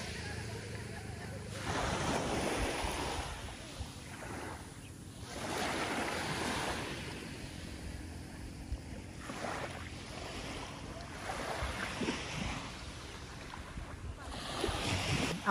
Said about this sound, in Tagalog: Nakaka-relax talaga yung tunog ng lagaslas ng tubig.